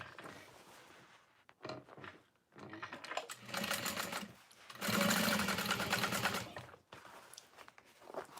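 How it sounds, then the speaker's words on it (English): Sewing machine top stitching through vinyl on a fold-over bag, running in several close bursts of fast stitching separated by short pauses, with the longest steady run near the end. "So top stitching through here on the vinyl."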